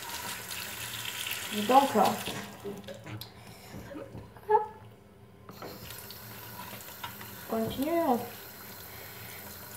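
Tap water runs steadily into a sink while an item is rinsed under it, a soft continuous splash with a few louder bursts, and someone speaks French over it.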